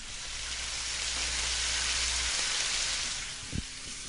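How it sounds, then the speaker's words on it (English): Bacon sizzling in a pan on a stove, a dense steady hiss of frying fat that carries on for the whole stretch, moderately close, with a faint low hum beneath and a small knock near the end; no speech. "The sound of bacon."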